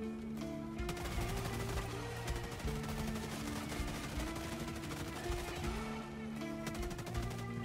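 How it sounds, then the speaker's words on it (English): Rapid rifle fire crackles in the Helldivers video game, dense bursts of shots repeating almost without pause over a layer of game music and effects, loud and close throughout. "Shooting them under their armor plating."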